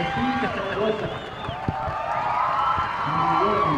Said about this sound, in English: listen to the Rivera crowd!